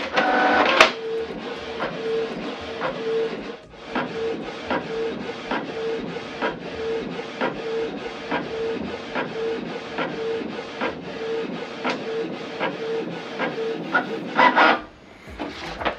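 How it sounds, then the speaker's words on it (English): A Canon PIXMA TS3750i inkjet printer runs a print job, a steady mechanical whir punctuated by regular clicks and paper-feed rasps, ending with a brief louder clatter as the page ejects. "ways to print document from your computer to this printer"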